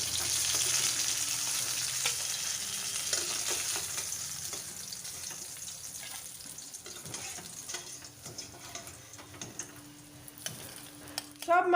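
Catla fish pieces frying in hot oil, a close, continuous sizzle that gradually thins, with occasional utensil taps and scrapes and no talking.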